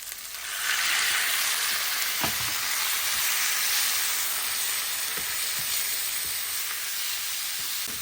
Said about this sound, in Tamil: இதோடு நாங்கள் எடுத்து வச்ச இறாலை சேர்த்து வதக்குவோம்.